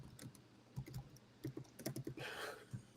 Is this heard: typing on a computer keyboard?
yes